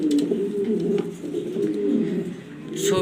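Pigeons kept for sale at a pet bird exhibition coo in low, rolling calls that rise and fall continuously at close range, with no talking.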